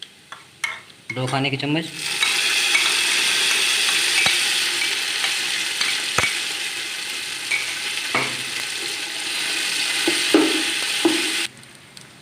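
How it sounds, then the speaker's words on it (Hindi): Garlic, ginger and green chili paste hitting browned onions in a pan: a loud, steady sizzle that flares up and holds for several seconds, with a few utensil clinks and scrapes, after a brief spoken remark at the start. "अब हम इसमें लहसुन अदरक और हरी मिर्च का पेस्ट डालेंगे"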